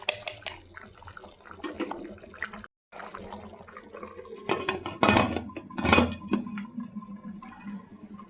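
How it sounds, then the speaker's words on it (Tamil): Metal lid clanking onto a pot of cooking tomato rice, a couple of louder clattering knocks amid softer kitchen clinks and bubbling, with no voices. "மூடி போட்டு மூடிடலாம்."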